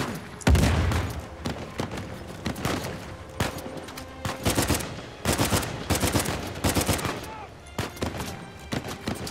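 Rapid bursts of gunfire and explosions from Uncharted 4 in a combat scene, dense and loud throughout, with a voice under the shooting.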